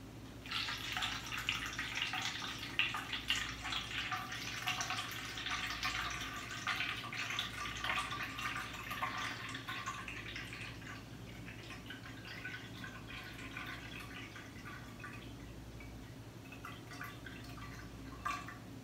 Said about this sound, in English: And here's where you fill it up with water.